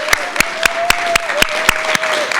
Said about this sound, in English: I would hope that we could just give everyone one global round of applause before we start doing winners